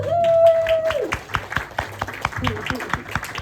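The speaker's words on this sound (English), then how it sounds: "So give an applause for Kieran." Audience members at a post-screening Q&A in Chatham, NJ clap for Kieran in sharp, scattered claps that follow a voice at the start, the crowd fairly close.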